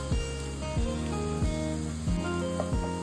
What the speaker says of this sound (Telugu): ఇలా అన్నింటితో పాటు ఒక 1 మినిట్ ఫ్రై చేసుకోవాలండి ఎగ్ని కూడా